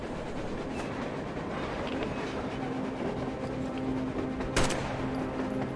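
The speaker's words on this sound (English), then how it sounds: "A train! A damn train on the surface!" A train rumbles on the surface in the post-apocalyptic shooter Metro Exodus, a steady low mechanical drone with faint tonal hums and a sharp burst near the end, heard at a distance without speech.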